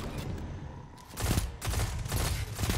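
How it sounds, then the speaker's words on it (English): Pulse rifle from Destiny 2: Witch Queen, the Syncopation-53, fires in rapid bursts of sharp cracks that repeat through the clip, loud and close, with a brief lull partway through. "Oh, yeah, this pulse rifle is nasty."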